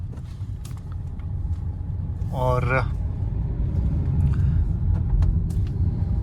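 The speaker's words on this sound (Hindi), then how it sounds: "ट्रैफिक सिर्फ टूरिस्ट है और लोकल्स की कुछ गाड़ियाँ चल रही हैं" Road traffic of tourist and local cars moving through a quiet market area on a Jammu and Kashmir highway, a steady low engine rumble with a brief squeal or horn midway, while someone speaks briefly.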